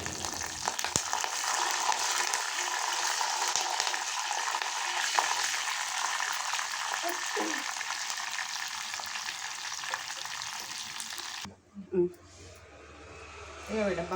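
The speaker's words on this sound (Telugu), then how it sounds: "ఎండుమిరపకాయలు, ఎల్లిపాయలు, ఆవాలు, జీలకర్ర, కొంచెం శనగపప్పు, మినపప్పు, 2 మెంతులు వేసి బగారు ఇచ్చిన." Dried red chillies, garlic, mustard seeds, cumin, chana dal, urad dal and fenugreek fry in hot oil for a tempering, a dense continuous sizzle that cuts off abruptly near the end, followed by brief knocks.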